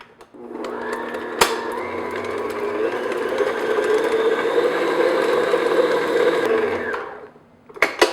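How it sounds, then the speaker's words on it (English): A stand or hand electric mixer beats butter in a bowl for cookie dough, a steady motor whir holding for about six seconds at close range, then cutting off, with no talking. "what I'm going to do is just beat the butter just until it gets nice and smooth."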